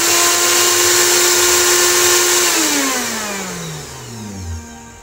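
A Miyako blender motor whirs loudly and steadily with a high whine, then spins down in a falling pitch as it slows toward a stop; no voices.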